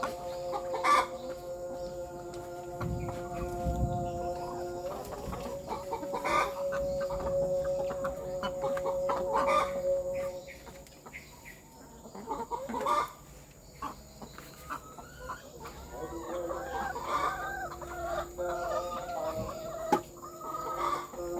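Laying hens cluck and squawk in a busy coop, with overlapping calls from several birds, some near and some farther off, and no talking.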